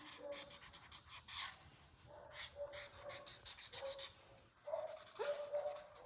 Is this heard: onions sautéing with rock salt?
no